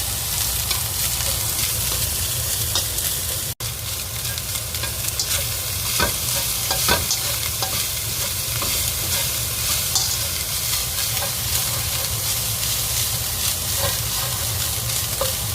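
Oil sizzles loudly and steadily in a wok while being stir-fried until slightly charred, with scraping stirs and small clanks running throughout, no talking.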